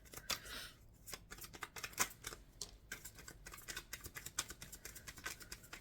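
A deck of cards being shuffled close by, a dense run of quick riffling flutters and soft slaps repeating steadily for several seconds, with no voices.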